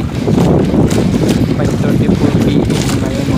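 Steady roar of strong wind buffeting the microphone, with a broad wash of big waves underneath, loud and continuous throughout.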